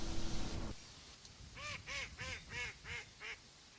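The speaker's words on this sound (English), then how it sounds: "next native waterbird we saw was the Hawaiian duck called koloa" A Hawaiian duck (koloa) gives a run of six evenly spaced, nasal quacks, fairly close and clear, after a short burst of noise at the start.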